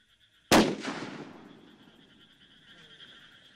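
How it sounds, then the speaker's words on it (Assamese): A single loud firecracker bang bursts close by in Majuli while people try to drive off a tiger, its sharp crack followed by a decaying rumble and faint ringing ambience. "বোম ফটকা ফুটাই তেওঁলোকে বাঘ খেদাৰ চেষ্টা চলাইছে এই মুহূৰ্তত"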